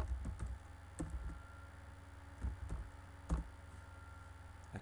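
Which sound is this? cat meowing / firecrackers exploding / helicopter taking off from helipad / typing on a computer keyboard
typing on a computer keyboard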